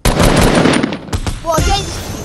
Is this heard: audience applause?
no